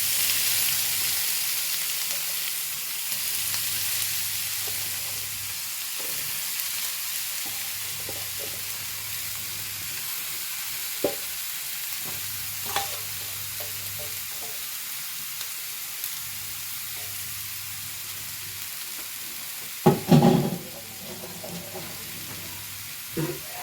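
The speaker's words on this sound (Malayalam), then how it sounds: "ഒന്ന് ഇളക്കി കൊടുത്ത്" Urad dal and pumpkin frying in a pan, giving a steady, loud sizzle throughout, while a spoon stirs with occasional scrapes and knocks, one louder clatter near the end.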